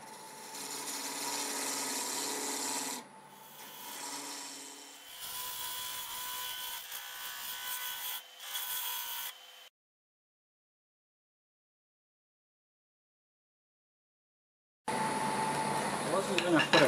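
A wood lathe spins a segmented twisted vase at 1,000 RPM while a half-inch gouge cuts it, giving a steady whirring hum with rough scraping. The sound cuts to silence for several seconds and then resumes.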